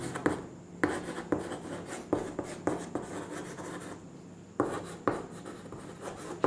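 Chalk or marker scratching across a board during a physics lecture on electrostatic potential energy: short, rhythmic strokes in bursts with brief pauses, close and fairly quiet, with no talking.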